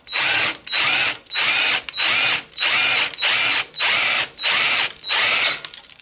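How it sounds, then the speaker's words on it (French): A power drill bores holes in the rear bodywork of a Citroën Traction 11B to mount trunk hinges, running in eight even, loud bursts with brief gaps between them, close and alone. "maintenant, je vais percer, je dois être à 6"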